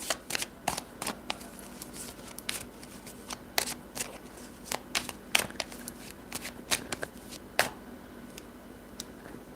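Tarot cards are shuffled close by in a quiet room, producing a steady run of crisp riffling slaps and flicks with no talking.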